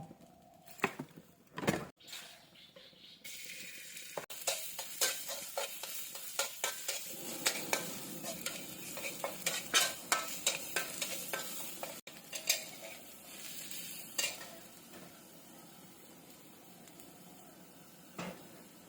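Minced pork being stir-fried in a pan, with a few sharp clanks at the start, then a long stretch of bright sizzling under repeated scraping and clattering of a utensil against the pan, close and fairly busy before it quiets.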